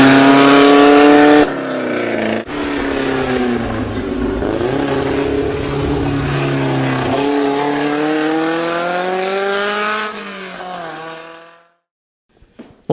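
A Renault Alpine A110 engine driving, loud and close with a strong harmonic drone that climbs and shifts through gear changes before cutting off near the end.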